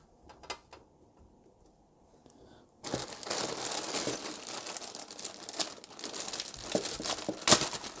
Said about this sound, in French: Je vais déballer, on va regarder ce qu'il y a dedans.